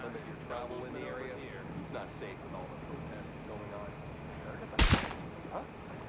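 One loud, close rifle shot from Ghost Recon Breakpoint cracks out near the end, over steady ambient noise, with voices talking throughout.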